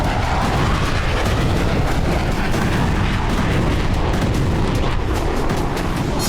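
An Israeli air strike on a weapons depot near Hama, Syria, produces a continuous loud roar of explosions and rumbling blasts, dense and unbroken from start to finish with no voices.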